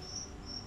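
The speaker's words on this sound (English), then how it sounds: "the harmonious sounds of crickets" Two high, thin cricket trills ring out against a quiet night background, one after the other with a short pause between.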